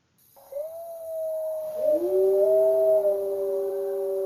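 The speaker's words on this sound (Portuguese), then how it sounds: "Então, aqui os lobos estão uivando." Wolves howl in long, rising and falling tones, one voice starting alone and a second lower voice joining so the two sustained cries overlap, fairly loud and close with no talk.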